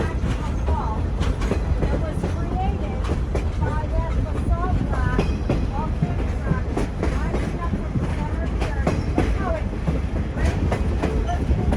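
A tourist train on the Verde Canyon Railroad rumbles steadily along the track beneath basalt cliffs, with continuous rolling rail noise and faint metallic squeals; no clear voices are heard.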